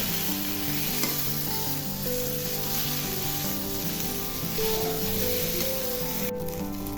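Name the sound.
taki fish frying in a pan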